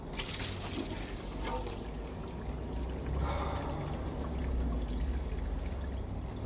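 Rainwater running through a newly fitted roof gutter at a house, a soft continuous trickling and streaming wash, fairly faint and steady throughout with slight swells, no voices.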